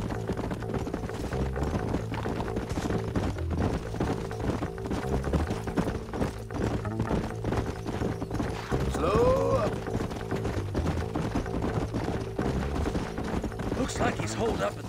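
Horse hooves clip-clopping steadily while riding in the video game Red Dead Redemption, a continuous rhythmic beat under game music, with talk partly over it and a brief whinny-like rise near the middle.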